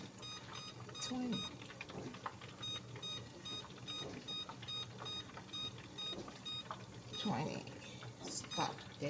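A kitchen oven timer beeps in rapid repeated bursts while a pepperoni pizza bakes. The alarm continues over faint kitchen background noise, and a person talks now and then.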